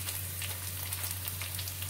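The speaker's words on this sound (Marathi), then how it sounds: "हा डिंक असा फुलतो आणि तो चांगला तळून घ्यायचा आहे" Edible gum (dink) puffs up and fries in hot oil for ladoos, a soft, steady crackling sizzle heard close but quietly, alone, over a low hum.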